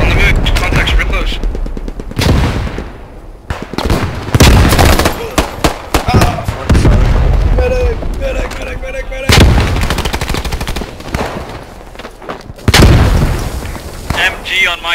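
Enemy machine gun fire in the WWII shooter Post Scriptum, loud and close, coming in sharp repeated bursts with heavy booms mixed in, while a player's voice breaks in now and then.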